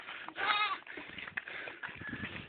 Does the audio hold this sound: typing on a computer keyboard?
no